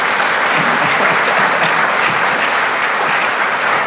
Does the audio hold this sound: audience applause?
yes